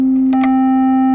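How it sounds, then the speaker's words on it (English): A steady electronic sine wave tone at a single fixed pitch, loud and smooth, briefly broken by two quick clicks near the start. "What I was just playing for you a moment ago were a sine wave and a triangle wave and a square wave of a given frequency."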